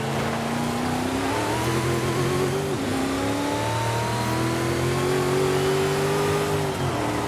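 A 1970 Chevrolet Chevelle SS 454 V8 roars under hard acceleration during a chase, its loud, close engine note climbing through the revs, dipping at shifts, then pulling steadily again, with no talk over it.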